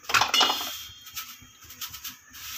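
Mustard seeds pop and crackle in hot oil while tempering green bean poriyal, with a dense burst of sharp spluttering at first that thins into scattered light pops.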